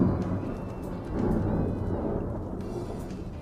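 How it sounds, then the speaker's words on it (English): Low, continuous rumble of rolling thunder swelling and fading over a few seconds, with a faint hiss of rain beneath it and no voices. "The rolling of thunder is largely due to successive reflection from the clouds."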